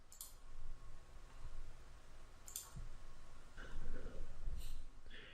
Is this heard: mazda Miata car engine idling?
no